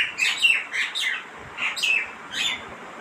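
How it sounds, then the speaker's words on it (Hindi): A myna bird calls repeatedly from behind a home kitchen, giving a string of bright, chattering chirps and squawks in quick rhythmic bursts, fairly close and clear over faint background noise. "ये पीछे कौन चिल्ला रहा है मैं बताऊँ? ये ना मैना है, मैना।"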